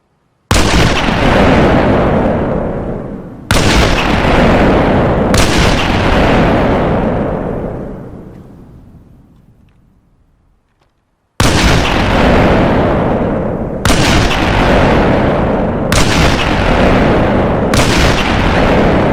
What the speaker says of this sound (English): here's this custom sound effect, and see how much damage that this weapon actually does